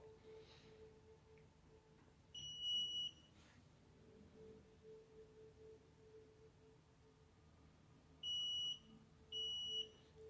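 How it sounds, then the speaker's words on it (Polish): A nixie clock with IN-12 tubes sounds its countdown timer signal: a short electronic beep, then after a quiet pause two more beeps in quick succession, clear against faint background hum. "I po upłynięciu też słyszymy sygnał dźwiękowy."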